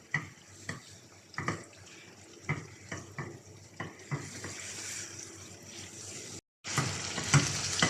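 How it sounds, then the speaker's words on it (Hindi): Chicken is stir-fried with masala on a high flame in a home kitchen, with sizzling and periodic scraping stirs of a spatula against the pan, close and fairly loud, and brief running water near the end. "अब हम चिकन को हाई फ्लेम पर इसका सारा पानी सूखने और तेल सेपरेट होने तक भून लेंगे।"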